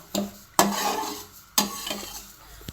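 A utensil stirs and scrapes grains dry-roasting in a pan on a stovetop, with three sharp metallic strokes, each trailing off into a soft rustling sizzle, close and with no talk.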